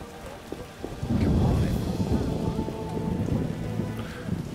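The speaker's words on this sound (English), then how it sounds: "Raining so hard I can't see anything." Heavy rain in The Witcher (PC game) hammers down in a dense, continuous roar with a deep rumble of thunder, loud and close after a brief quieter opening.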